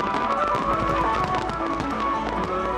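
Fireworks crackle and pop in a dense, continuous volley at moderate distance, layered over a steady background with faint music-like tones.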